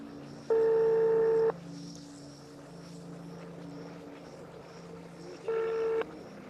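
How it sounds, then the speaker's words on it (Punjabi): A telephone being dialed to place a call: two steady electronic tones, each about a second long, separated by a few seconds of low, continuous hum in a quiet indoor space. "ਮੰਮੀ ਨੂੰ ਫੋਨ ਕਰ ਹੀ ਲਵਾਂ"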